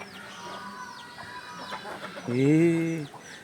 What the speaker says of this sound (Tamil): இங்கே பார்த்தீங்களா, வான்கோழி.